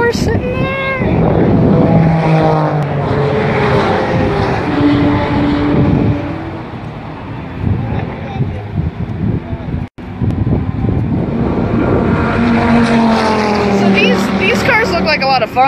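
Radical cup race cars at Sebring track drone past with rising and falling engine pitch, loud and continuous, several cars overlapping for about fifteen seconds, with people talking underneath.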